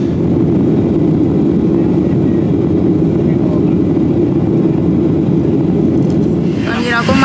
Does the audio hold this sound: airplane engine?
yes